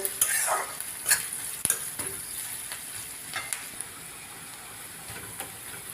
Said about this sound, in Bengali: এবার এগুলো একটু ভেজে নেব